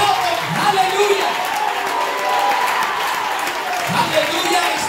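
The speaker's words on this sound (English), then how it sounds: "If you believe that the Lord loves you, clap your hands to Him." A church congregation claps their hands in praise during a sermon, a dense continuous patter of clapping mixed with voices and shouting throughout.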